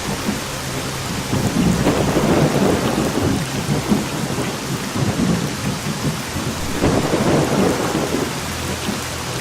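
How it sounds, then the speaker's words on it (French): Thunderstorm in the video game S.T.A.L.K.E.R.: continuous loud rain hissing on surfaces with low rolling thunder swelling and fading across the whole stretch, no voices. "Bon, il se calme l'orage là, sérieux."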